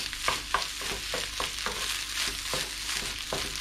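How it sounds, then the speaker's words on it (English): Eggs for fried rice cook in a pan with a continuous close sizzle, while a utensil stirs with repeated light taps and scrapes at a steady rhythm and no one speaks. "Just cook it for 2-3 minutes until the eggs will really cook."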